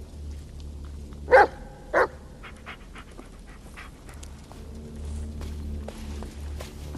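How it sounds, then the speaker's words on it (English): A dog in the horror game Blair Witch gives two sharp barks close by, followed by soft panting and quiet movement under low ambient background. "Yeah, good dog."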